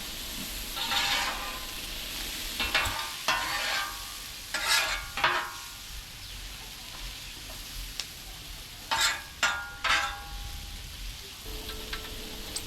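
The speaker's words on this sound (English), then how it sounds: "I do tend to scrape the griddle down periodically as I move the food around just to keep it clean and keep it from sticking" Chicken and vegetables for a Thai ginger dish sizzle softly on a hot griddle while a metal spatula stirs and scrapes in short bursts of clatter, fairly faint, with no voices.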